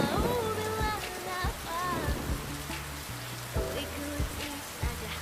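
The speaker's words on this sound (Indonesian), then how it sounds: "Kalau hujan gini" Steady rainfall patters in the background as scattered drops tap nearby, heard under tonal voices or music.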